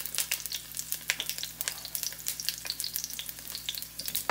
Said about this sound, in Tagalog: Una natin gagawin ay magigisa tayo. So ito, ilalagay natin yung garlic.